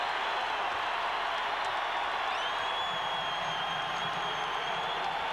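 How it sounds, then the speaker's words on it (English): Loud, sustained crowd roar from an arena full of basketball fans at a Utah Utes at New Mexico Lobos men's college game, a steady wall of cheering and applause with a whistle-like tone riding over it. "The crowd up and very loud."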